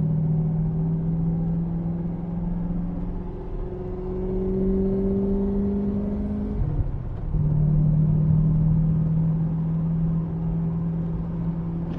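A 1987 TVR 390SE V8 engine drones steadily from inside the car on a test drive, its pitch easing down and then rising again as the driver shifts and accelerates, loud and continuous with no talk.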